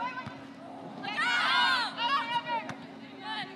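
Alabama Crimson Tide fans at an NCAA women's soccer match against Chattanooga shout and cheer in bursts, voices rising together into a swell mid-way, with a thump or two and scattered calls, moderately near.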